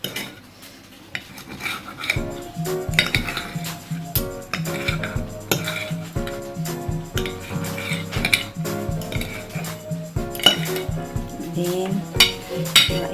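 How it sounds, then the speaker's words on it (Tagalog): A knife cuts a fried egg into small pieces on a board for fried rice, making repeated light taps and clinks. Background music plays throughout. "yung ating piniritong itlog, hiwain lang natin ng maliliit na slice"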